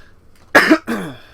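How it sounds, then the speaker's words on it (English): A man gives two sharp, loud coughs close to the microphone, the first harsher and longer, the second following after a brief gap, with quiet room background around them. "I have had a bit of a coughing problem today"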